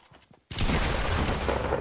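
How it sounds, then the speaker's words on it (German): Enemy pump shotgun fire in the video game Fortnite: after a quiet, muffled start, a loud burst of gunfire erupts and carries on as dense, close blasts to the end. "Ich hab Pumpgun-Schüsse von Gegnern."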